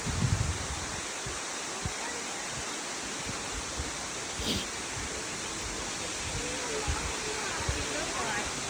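Steady broadband roar of the waterfall at Minnamurra Rainforest, reached after a walk through the rainforest, rushing continuously and fairly near with no pauses.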